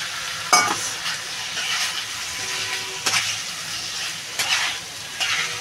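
Chicken pieces with chopped tomato and fried kohlrabi sizzle in a pan, and a utensil scrapes and stirs in sharp periodic strokes over the constant frying hiss, with no voices.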